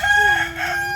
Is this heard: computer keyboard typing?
no